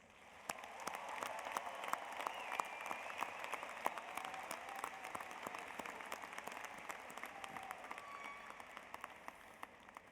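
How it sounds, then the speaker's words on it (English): A large crowd applauds at a university commencement ceremony, dense continuous clapping that rises and holds steady with sharp individual claps standing out, heard from a distance in a big hall. "Please join me in showing our appreciation with a round of applause for their efforts."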